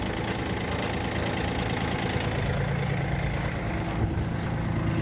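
A Yanmar F-180 compact four-wheel-drive tractor's engine runs at a steady, even idle, close and loud with a constant low rumble and no talk.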